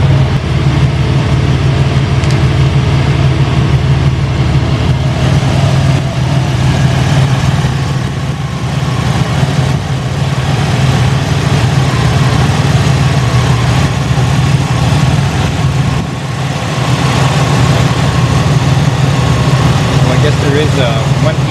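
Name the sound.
Buick GNX turbo engine idling with hood open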